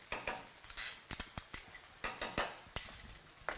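Wide rice noodles for chow fun being tossed in a pan with oyster sauce: quick clattering scrapes and taps of utensils against the pan in an irregular rhythm, close by, with no talking.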